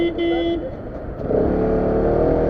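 A motorcycle comes up along a road, its engine swelling louder and rougher after a quieter start, heard close against a background of other traffic.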